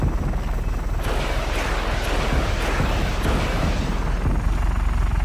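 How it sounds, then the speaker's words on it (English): Helicopter in the video game Just Cause 3, a steady loud rotor roar with rumbling low end, mixed with scattered explosive booms and gunfire through the whole stretch. "I'm just sitting here beasting with this goddamn chopper"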